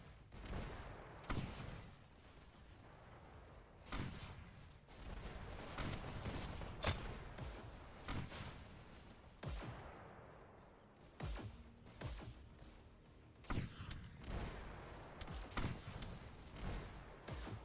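Rocket fire in a VR e-sports league match, repeated sharp blasts and bursts recurring every second or two over a busy, fairly faint game soundscape.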